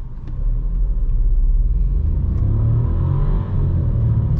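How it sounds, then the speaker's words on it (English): A 2022 Volkswagen Taigo crossover with a 1.0 TSI engine and DSG gearbox accelerates onto a highway. Its engine rumbles steadily under loud road and wind noise, heard from inside the cabin. "So this is going to be a little acceleration for you guys and a little highway drive, so you can hear, feel and see how this car performs"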